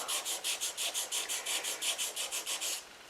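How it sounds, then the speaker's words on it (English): A wet pad rubs down filler on a pitted die-cast Dinky Toys British sports car, giving about fifteen regular back-and-forth scrubbing strokes, close and even, that then stop. "I'm just going to work on the more affected areas where the pitting is the strongest. So I'm going to lightly rub"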